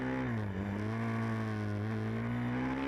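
Supermoto motorcycles revving at the start of an S1GP race in Poznan, Poland, a steady, loud engine drone with a held pitch that dips briefly and then climbs again, continuous with no talk.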